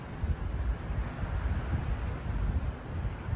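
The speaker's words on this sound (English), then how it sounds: "every once in a while, I think it is calming down, and then another gust picks up" Wind gusting at sunset outdoors, a continuous low rumbling buffet on the microphone that swells and eases throughout, with no talk.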